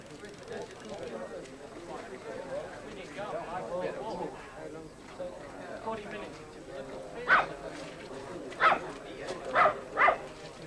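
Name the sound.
dog barking at RAF station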